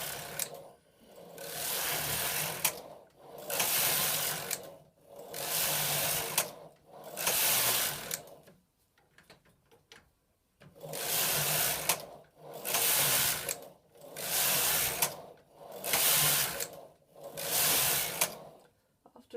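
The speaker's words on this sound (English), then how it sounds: "So now you just start knitting your rib." Silver Reed knitting machine knitting 1x1 rib, its carriage swept back and forth in steady rhythmic passes, each a loud whooshing rattle of about a second and a half, with a brief pause midway.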